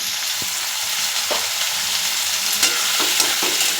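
Taro stolons and shrimp frying with turmeric and salt in a pan, a dense, steady sizzle with intermittent scraping stirs of a utensil, near and moderately loud, with no talking.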